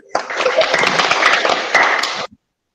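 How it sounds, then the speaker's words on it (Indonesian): Applause for a student group in a classroom: dense, steady clapping from many hands lasting a couple of seconds, loud and close, then stopping abruptly. "tepuk tangan untuk kelompok 1"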